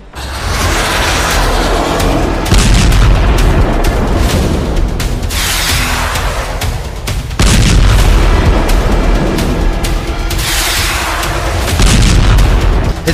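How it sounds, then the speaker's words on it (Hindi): Heavy bombardment explosions strike Hezbollah positions in Lebanon during an Israeli military operation: loud booming blasts with long rumbling decays, several large impacts rolling one after another over a continuous roar. "हिजबुल्ला के ठिकानों पर हुई भयंकर बमबारी इसी ऑपरेशन का हिस्सा है"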